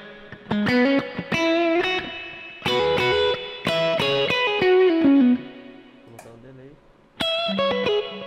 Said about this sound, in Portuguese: Quarto é um spring, eu vou tirar o delay só para vocês escutarem bem o timbre dele